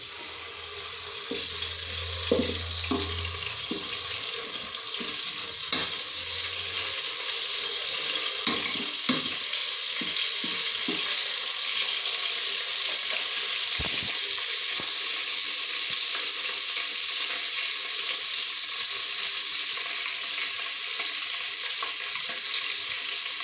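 Momoni, a dried salted fish, goes into a pot of spinach stew and sets off a continuous sizzle and frying hiss, with a few clatters and stirring knocks near the start, no voices.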